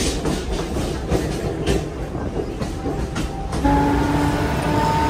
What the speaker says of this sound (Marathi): तर आता आम्ही बसलोय पनवेल ट्रेनला आणि बघू आता ट्रेन कधी पोहोचतीये.